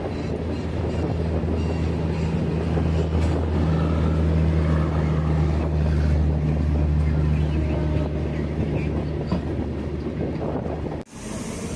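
A goods train bound from Visakhapatnam rolls past on a diverted line toward Puri with a continuous low rumble and rattle. The sound comes through wind noise, holds steady, and cuts off with a sharp thump near the end.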